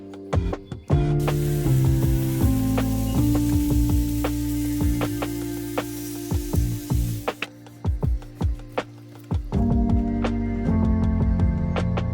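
Steak frying at a campsite gives a close, loud spitting sizzle with a steady hiss in the middle, broken by crackles and pops, and quieter bursts at the start and end.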